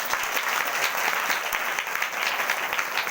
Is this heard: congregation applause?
yes